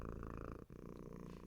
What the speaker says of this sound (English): Satisfied, you purr.